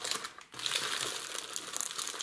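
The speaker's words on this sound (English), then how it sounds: "I'm gonna fold along each of these" A scored Tiffany cardboard box is folded along its crease lines, giving a close, continuous crinkling and crackling of card with a brief pause near the start.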